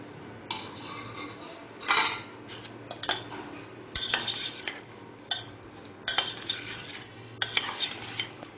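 A spoon scrapes and clinks against a metal bowl while soya chunks are mixed with curd, chilli powder, biryani masala and turmeric, giving irregular bursts of stirring and clattering at close range.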